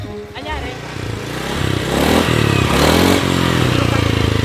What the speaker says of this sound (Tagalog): May tumutunog sa motor namin.